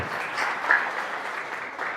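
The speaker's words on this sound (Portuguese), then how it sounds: "vamos aplaudir a Jesus" A congregation in a church service applauds Jesus. Steady, moderately loud clapping runs through the whole moment with no pause.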